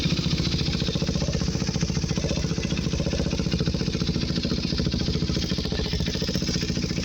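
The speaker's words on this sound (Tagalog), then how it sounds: "sound check tayo ng ating newly installed na Yoshimura exhaust." A KTM 390 Adventure motorcycle fitted with a newly installed Yoshimura exhaust runs steadily nearby, giving a loud, even, rapid thumping drone with no clear rise or fall, and no voices.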